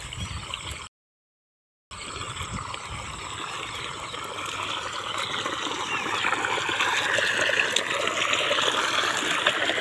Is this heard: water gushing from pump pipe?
yes